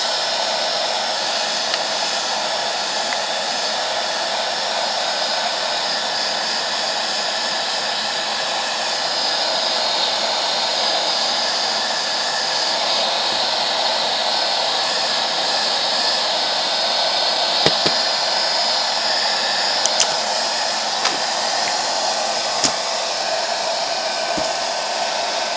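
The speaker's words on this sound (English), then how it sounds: "Use a heat gun." Heat gun blowing steadily on the shrink wrap of a LiPo battery, a continuous loud airy roar that lasts throughout, with a few brief clicks near the end and no talk.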